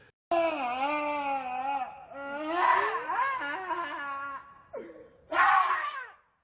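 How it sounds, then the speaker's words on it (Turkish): A young man cries and wails after a car accident, giving loud, drawn-out sobbing moans that rise and fall, with a short pause and then a final anguished outburst, close and alone. "gencin kaza sonrası dakikalarca çocuklar gibi ağladığı"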